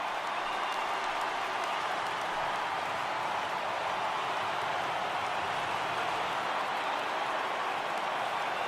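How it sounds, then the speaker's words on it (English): Stadium crowd in an MLB baseball video game, Yankees vs Blue Jays, rising for a full count: a continuous, even wash of distant cheering and applause, steady throughout with no clear voices. "Crowd gets up for the 3-2."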